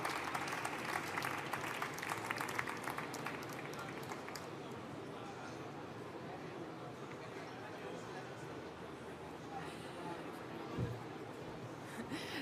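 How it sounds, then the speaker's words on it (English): Audience applause after a presentation at a digital conference in Madrid, fairly faint and fullest in the first few seconds, then thinning into a steady low crowd murmur with voices mixed in. "I will receive the applause gratefully"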